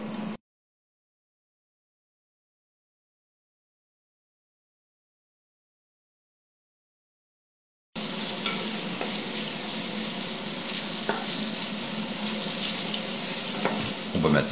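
Onions with garlic sweating gently in a pot for a pumpkin velouté, a steady low sizzle with stirring scrapes that starts abruptly after a long stretch of silence.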